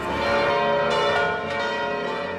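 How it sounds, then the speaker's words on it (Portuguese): Church bells toll at the Church of the Annunciation in Nazareth, a loud, rich ringing with dense sustained overtones that swell and overlap throughout, with no voices. "Os sinos dobram."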